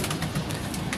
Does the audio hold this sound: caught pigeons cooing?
yes